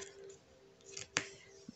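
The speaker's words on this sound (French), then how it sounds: "Les petits ciseaux." Small scissors cutting washi tape, one crisp close snip standing out clearly in a quiet room, followed by a faint light click, with a soft electrical hum underneath.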